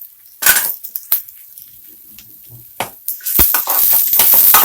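Ginger frying in a pan for boti gojju, with sharp crackling sizzle bursts and scraping stirs, quiet gaps between, then a steady louder sizzle toward the end.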